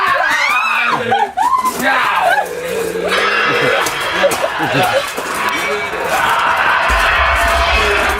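High-pitched screaming carries through continuous chatter and crowd noise at a Thorpe Park ride queue in the dark, with several voices talking over a busy, echoing background.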